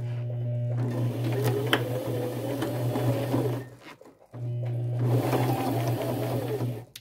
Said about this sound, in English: So now I'll go sew that on.